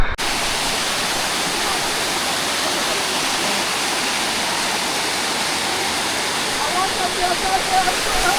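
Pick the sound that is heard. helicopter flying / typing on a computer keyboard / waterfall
waterfall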